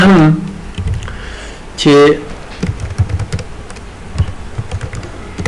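Keys tapping on a computer keyboard while writing in Word 2019, quick light clicks in irregular bursts mixed with someone speaking Pashto over them.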